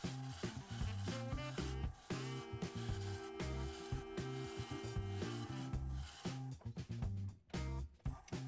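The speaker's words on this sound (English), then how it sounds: "I'm just going to do a little shear scraping, try to get this cleaned up nicely" A scraper shear-scrapes a natural edge maple bowl spinning on a wood lathe, giving a steady, continuous rasping rub with a low rumble underneath that runs loud throughout.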